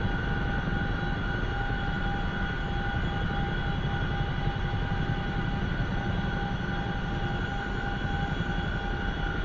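A Chinook helicopter in RAF livery flies in the DCS combat flight simulator, its engines and rotors producing a steady, loud, unbroken drone with a constant whine that lasts throughout.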